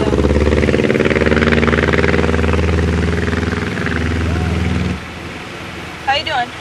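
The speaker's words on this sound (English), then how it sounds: "A powered plane is used to tow the sailplane into the air." Droning engine of a powered tow plane pulling a sailplane aloft, a loud steady rumble that drops in level partway through, with a voice speaking briefly near the end.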